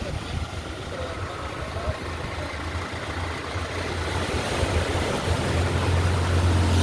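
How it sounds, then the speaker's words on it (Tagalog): Strong waves wash onto the shore at a stopover in Dinadiawan, Aurora province, a broad steady surf roar that swells louder over several seconds, with a low engine hum underneath. "Medyo malakas yung alon."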